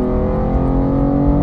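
A BMW X3 M roars loudly up close, its engine holding a dense, powerful drone with a strong exhaust note throughout.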